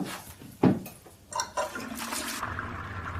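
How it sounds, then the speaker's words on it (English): A toilet flushes in a home setting, a short rushing gush of water followed by gurgling and refill hiss, fairly close and moderately quiet, with no one talking. "that is a toilet flushing"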